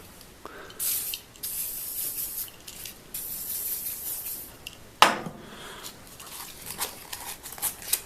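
WD-40 sprayed from an aerosol can onto a cast iron top during refinishing. Several close, hissing bursts come one after another, with a sharp metallic knock and some handling clatter between them, and no one speaking.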